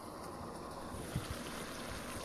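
Cabbage stir fry with vegetables sizzling and bubbling in a pan, a steady, dense hiss with faint popping throughout, close and continuous with no talk.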